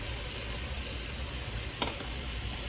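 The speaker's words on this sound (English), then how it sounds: "To this, we're going to add our sofrito." Sofrito hits hot garlic in a pan, a dense, even sizzle at a quiet level with one brief clink or scrape partway through, no speech.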